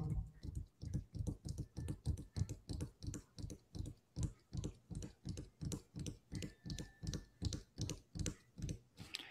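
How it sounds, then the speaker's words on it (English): Steady, evenly spaced clicks from a computer keyboard being typed on tap out a quick regular rhythm, close and fairly quiet, with no talk. "As he taps away on his keyboard"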